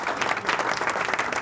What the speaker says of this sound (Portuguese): Palmas pro nosso convidado.